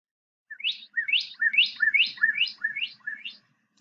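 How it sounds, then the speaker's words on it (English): A northern cardinal sings a quick series of seven rising, slurred whistled notes in steady rhythm, clear and close against a quiet background. "So let's play some calls for the cardinals."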